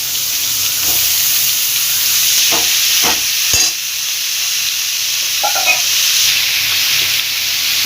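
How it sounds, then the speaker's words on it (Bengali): Snake gourd and potato pieces fry in oil with nigella seeds, a continuous, fairly loud sizzle broken by a few scraping stirs of the spatula. "খোপা আর আলুটা দিয়ে ভালোভাবে ভেজে নেবো"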